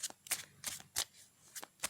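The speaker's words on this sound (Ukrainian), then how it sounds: "Вони так дуже-дуже легесенько тасуються." A tarot deck of smooth, high-quality cards being shuffled by hand, giving about seven quick crisp riffling bursts in uneven rhythm, close and fairly quiet, with no talking.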